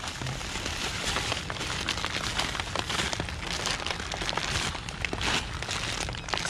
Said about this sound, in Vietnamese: Mưa ướt nhẹp hết à?